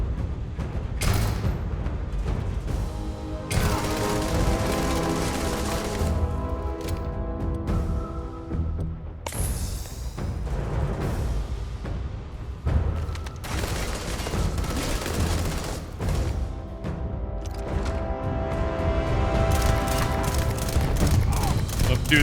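Enemies blind-fire at the player in Starfield, sending bursts of rapid gunfire and heavy booms in waves over dense combat noise, with occasional speech mixed in.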